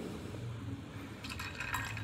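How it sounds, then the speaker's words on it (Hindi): Sugar water is poured into a jau sattu drink in a kitchen, a short trickling splash that starts partway through after a low, quiet hum. "अब इसके अंदर आपने पानी ऐड करना है जी, वो जो हमने शक्कर वाला पानी बनाया था"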